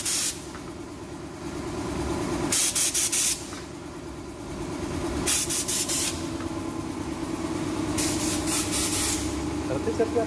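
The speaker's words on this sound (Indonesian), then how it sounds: "ada tempat khusus untuk penyemprotan filter tutup radiator itu penyemprotannya khusus ada di bagian" Compressed-air blower spraying radiator caps clean one at a time at a diesel engine workshop, heard as repeated loud hissing bursts of a few seconds each over a steady engine-like drone, with people talking throughout.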